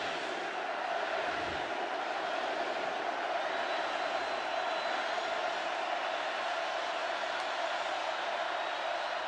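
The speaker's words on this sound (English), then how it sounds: "Perkins firing up the crowd." Steady roar of a packed stadium crowd at a Florida versus LSU college football game, loud and continuous throughout with no break, a dense wash of cheering voices swelling faintly as the noise builds.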